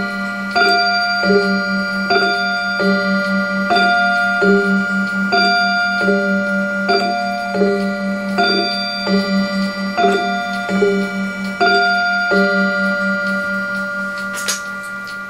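Steady loud ticking from a New England Clock Co No. NE214 8-day mantel clock shut inside a box, evenly paced beats with ringing resonant overtones, close up and alone.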